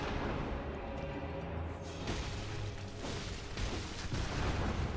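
An enemy gunman firing in the Bloodborne video game, several booming gunshot blasts at irregular intervals over a dense, rumbling game soundscape, fairly distant rather than close.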